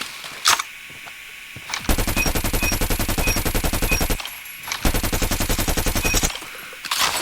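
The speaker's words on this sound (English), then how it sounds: "as you can tell, very decent assault rifle." Rapid automatic bursts from an assault rifle in the shooter game COD Mobile, two long sustained strings of fire with a few single shots before and between them, loud and dense.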